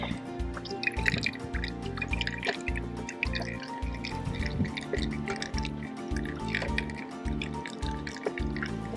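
Coconut milk drips and trickles from squeezed grated coconut into a container, a steady wet patter over a low rhythmic background hum.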